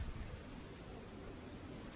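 Strong typhoon wind outdoors during Typhoon Uwan, a steady, even rush of noise with light microphone buffeting and no one speaking.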